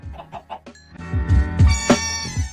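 Several short video game chicken clucks, a quick series followed by louder overlapping squawks and clucking, close and clear, with a synthetic game-like quality.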